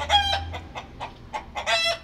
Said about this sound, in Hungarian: újra megszólalt a kakas